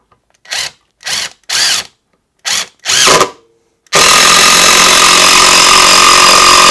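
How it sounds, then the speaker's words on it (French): An impact driver drives a screw, first in several short, loud bursts separated by pauses, then in one sustained, harsh, buzzing run that continues to the end. "On va maintenant tester la visseuse à choc."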